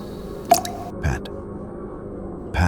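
Thick drops of blood fall from a porch beam onto wooden porch boards during a midnight storm, landing as three separate soft pats spaced apart against a low, steady background.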